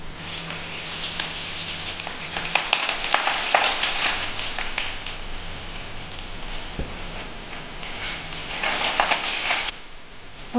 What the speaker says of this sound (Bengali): তেলটা গরম হয়েছে, আমি আলুগুলো এবার ভেজে নেব।